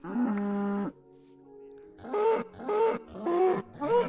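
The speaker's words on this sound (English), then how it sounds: "I just murdered a cow." Cow in the video game Minecraft lowing in a long harmonic moo, then after a short lull several shorter, rising moos in quick succession, close and clear with no talk.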